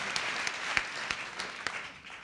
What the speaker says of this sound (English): let's give the staff a round of applause